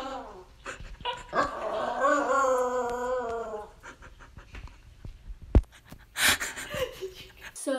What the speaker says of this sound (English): we're going to be doing the story behind this Awoo right here